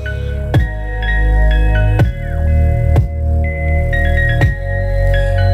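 Bass-heavy music plays loudly through a SAAG PENTAS-02 speaker, with deep booming low notes, a steady beat with regular strong hits, and bright melodic synth notes above.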